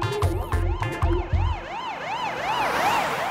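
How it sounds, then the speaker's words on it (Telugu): An ambulance siren wails in a comic cartoon, loud and close, its rising and falling tone repeating steadily after a few heavy thumps at the start. "అరే రే, అంబులెన్స్ కూడా వచ్చేస్తుంది."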